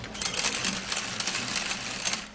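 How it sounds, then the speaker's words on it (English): A hand-operated manual mixer churns vitamin C toner ingredients with a quick, rhythmic whirring and clicking. The sound is close and continuous for the whole short stretch. "I'm actually going to be using a manual mixer and mix it really well"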